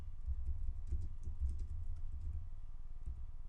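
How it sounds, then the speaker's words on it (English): Rapid, steady keystrokes patter on a computer keyboard as a name is typed in, close and fairly quiet, with no one talking. "Simply click the New Patient button, type in the patient name"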